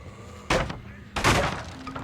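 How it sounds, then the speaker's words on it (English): Wooden pallet smashed apart in Dead by Daylight, two loud crunching breaks about half a second apart, the second longer and splintering, over a low game ambience with no talk. "I'm gonna go over here and destroy this pallet here."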